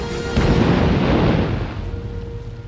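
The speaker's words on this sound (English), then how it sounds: "9 seconds later, a second, more powerful explosion rocks the ship." A powerful explosion rocks an aircraft carrier, a loud deep boom swelling into a rumbling roar that slowly fades over a few seconds, with no talking.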